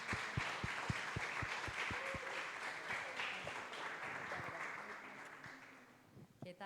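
A church congregation breaks into sustained applause to welcome a guest, a dense roomful of clapping with a few distinct loud claps early on, holding steady before fading out toward the end.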